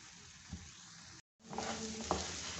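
Aloe vera halwa frying in oil gives a quiet, close sizzle, with soft spoon scrapes as it is stirred and a brief gap of silence midway.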